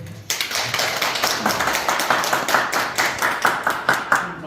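An audience in a cultural centre hall breaks into applause welcoming a tree doctor, with sustained, fairly close clapping from many hands that pulses evenly throughout.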